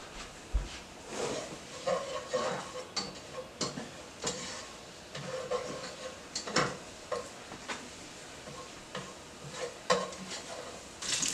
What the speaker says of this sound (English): We're going to add some more oil and stir those with maybe a rubber scraper.